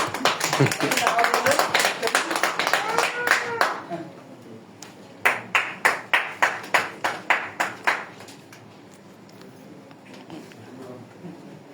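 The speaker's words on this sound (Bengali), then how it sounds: "জি, আমরা সবাই করতালি দেই" An audience clapping at a gathering, first scattered overlapping claps mixed with talking, then a run of about a dozen sharp, evenly spaced claps in unison before fading to quiet room noise.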